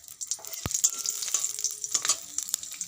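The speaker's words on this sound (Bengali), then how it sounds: "এবারে তেলের মধ্যে কাঁচা লঙ্কা ফোড়নের জন্য দেব।" Green chillies dropped into hot, darkened mustard oil for tempering while cooking beans, giving a steady close sizzle and crackle with sharp spits and a loud pop near the start.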